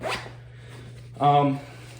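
Zipper on a pocket of a Sitka Mountain Optics harness: a quick rasping zip at the start and another short zip later, close and clear, with a voice briefly speaking near the end.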